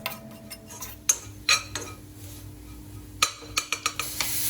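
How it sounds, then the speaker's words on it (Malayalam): Spice powders stirred in a pan for chow chow pickle: a spoon scrapes and clinks against the metal in scattered sharp taps with softer scraping between, close and fairly quiet, with no voices. "ഇനി ഇതെല്ലാം കൂടെ നന്നായിട്ടൊന്ന് മിക്സ് ചെയ്ത് കൊടുക്കുക"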